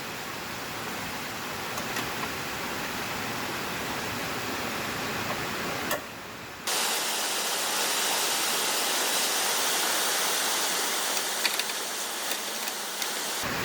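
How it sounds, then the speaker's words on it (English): Heavy rain pours down in a dense, steady hiss around an outdoor car repair on a Mazda Miata. It cuts out briefly partway through, then returns just as loud. "And it's raining pretty hard."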